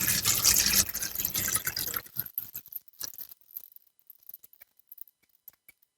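Water poured off winnowed garden seeds from a container, a steady splashing pour for two seconds that stops abruptly, followed by scattered drips and small trickles fading into quiet.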